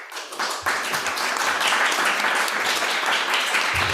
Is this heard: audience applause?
yes